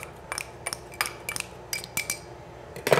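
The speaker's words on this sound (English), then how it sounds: "I think we've got them chopped up." A knife chops green onions, jalapenos and cilantro on a board, a series of about eight quick, light, sharp taps at an uneven rhythm, close and fairly quiet, with no talking.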